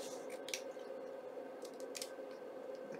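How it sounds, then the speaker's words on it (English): Scissors trim the edge of a lace postcard in a few quiet, separate snips against a low steady hum, close by and with no talk. "I'm going to trim the edge, trim a little bit off the edge just like that"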